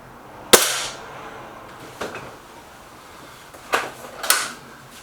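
Air rifle firing Bisley pellets: four sharp, close cracks spaced a second or two apart, the first loudest, each with a short metallic tail, against a quiet background.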